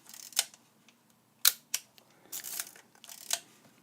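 Shutter and mechanism of a 1960s Yashica Minister D rangefinder film camera, giving several sharp, close mechanical clicks spaced irregularly, with a scraping advance sound between them against a quiet background.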